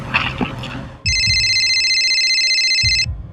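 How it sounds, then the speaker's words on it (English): A mobile phone rings with a bright, steady electronic tone that starts abruptly, holds for about two seconds and then stops, close and loud above a low rumbling background. "Then her phone rang."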